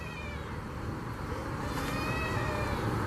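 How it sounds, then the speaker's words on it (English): A cat cries in a forest at night, a drawn-out, wavering meow set against steady background noise, fairly close and sustained over a few seconds with no talk. "they do oddly resemble the sounds of a cat crying"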